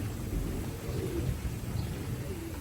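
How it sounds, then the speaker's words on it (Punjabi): Steady rain falling outdoors, a continuous even hiss with low rumble underneath and a faint cooing bird. "ਆ ਦੇਖੋ ਮੀਂਹ ਪਈ ਜਾਂਦਾ"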